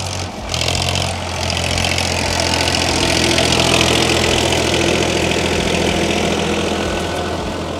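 A Farmtrac 45 tractor engine runs steadily and loudly throughout, a continuous low rumble with a broad mechanical roar, no voices.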